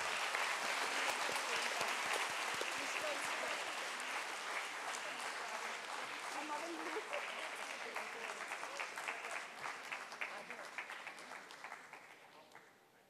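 An audience at an anniversary celebration claps steadily and loudly, the dense applause slowly thinning and fading toward the end, with a few voices mixed in.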